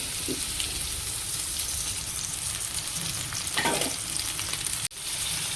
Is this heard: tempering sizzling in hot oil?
yes